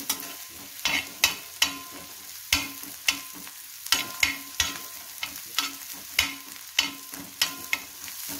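Egg tawa masala frying with pepper powder, a steady close sizzle broken by sharp, regular scrapes and clacks of a spoon stirring against the pan, roughly one every half second.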